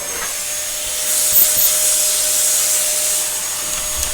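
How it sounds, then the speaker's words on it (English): A Dyson DC07 vacuum cleaner runs steadily while vacuuming indoors, a continuous close whooshing drone with a faint tonal hum and slight rubbing variations as it moves across the floor. "so you see, I'm vacuuming this whole house."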